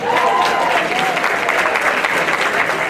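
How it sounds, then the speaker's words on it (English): Steady, loud applause fills the room at an annual awards ceremony as the crowd claps together, with a few cheers and faint voices mixed in. "one more round of applause for Suba."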